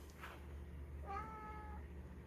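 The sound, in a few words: cat meowing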